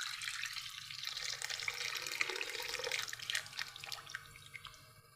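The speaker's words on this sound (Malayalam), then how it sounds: "എൻ്റെ ചൂടുവെള്ളം ഒഴിക്കുകയാണ്." Hot water poured into a cooking pot for a homemade lunch, a continuous splashing, gurgling pour that runs steadily for several seconds at close range, with no voices.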